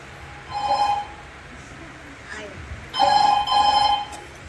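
Telephone ringing during a Marathi family stage play: two clear bell bursts, each with a short double ring, over a quiet room with faint voices.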